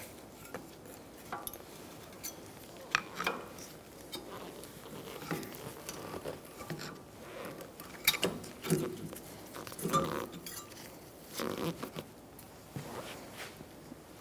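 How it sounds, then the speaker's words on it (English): A pry bar levering the rear brake caliper away on a 2012-2019 Fiat 500: irregular metallic scrapes, clicks and clunks at close range, fairly quiet and without talking. "we're going to use a pry bar and pry away our caliper, the top part of it"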